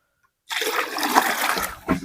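Water is poured into a pot at an outdoor farm cooking setting, a sudden loud splashing gush starting after a moment of silence, continuing steadily and then tapering with a final splash.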